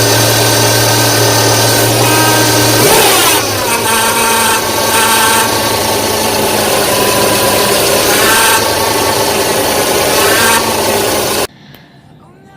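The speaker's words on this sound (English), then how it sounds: "As you can probably hear there, the pump is a little noisy" A noisy power steering pump on a 1966 Ford Mustang whines loudly over a running engine, a steady droning hum with a shifting pitch partway through, before cutting off abruptly near the end.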